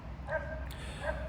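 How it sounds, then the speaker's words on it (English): A dog barks twice at a distance, short faint yips about 0.7 seconds apart over a low steady background hum, with no talking. "Apologies for the dog barking."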